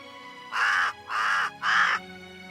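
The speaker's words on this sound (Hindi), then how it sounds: "कौवे की आवाज थी।" A crow caws three times in an even rhythm, each call loud, harsh and close, with quiet pauses between and no other sounds around it.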